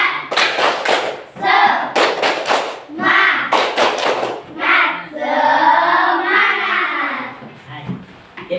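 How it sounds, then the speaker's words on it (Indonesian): Students clap a rhythmic 'tepuk semangat' cheer in a classroom, with quick bursts of claps and thumps in a set pattern mixed with loud group chanting voices. "kita tepuk semangat dulu"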